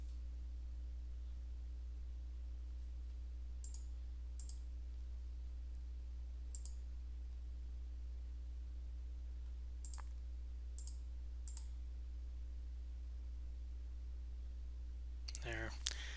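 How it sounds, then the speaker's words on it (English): A computer mouse clicks a few times at a desk, sharp isolated taps spread out over a steady electrical hum, with a quick flurry of clicks near the end. "Now if I click back in there"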